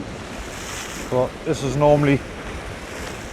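Choppy sea and gusting wind at Beacon Point, Newbiggin-by-the-Sea, heard as a steady broadband rush of surf and wind buffeting, with someone speaking briefly over it near the middle.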